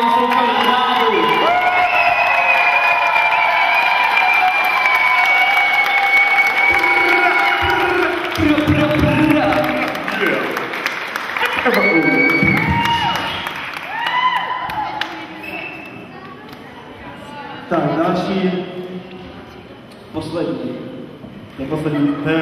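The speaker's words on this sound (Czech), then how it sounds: "Takže potlesk pro Kubu Kotulka a jeho super zvládu." A crowd at a children's camp claps, cheers and whoops for a dancer, loud and lively with shouting voices over the clapping and some speech mixed in.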